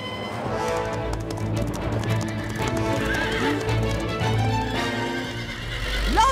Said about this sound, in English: Please don't scare the horses!